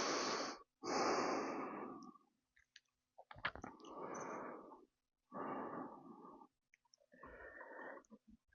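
Slow, deep breaths drawn in and let out while holding a warrior one yoga pose, each breath a long, airy rush with short pauses between, close and fairly loud, with no talking.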